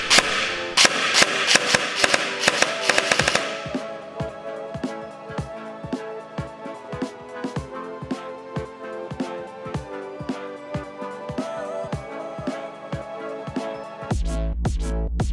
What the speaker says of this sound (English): Shoot one bullet when the trigger is pulled and one when it releases.